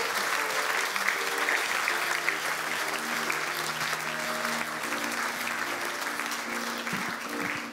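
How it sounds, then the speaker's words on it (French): Sustained applause from a church congregation after a closing prayer, a steady dense wash of clapping lasting throughout at even loudness, with faint background tones beneath it. "Nous voulons applaudir pour ceux qui l'ont prié."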